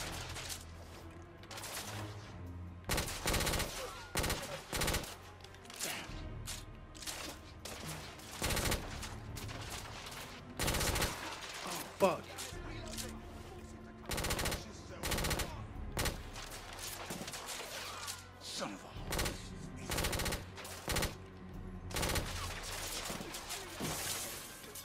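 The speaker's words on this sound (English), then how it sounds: "This is a machine pistol?" Machine pistol gunfire in The Order: 1886 during a fight aboard an airship: rapid bursts of shots repeat again and again with short pauses, loud and close, with crashing impacts mixed in.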